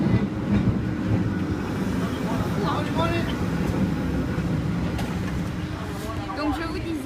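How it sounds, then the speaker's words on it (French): A San Francisco cable car rolls along the street with a steady low rumble and faint clattering, heard from nearby amid outdoor city noise. "je vous montre le tramway qui marche"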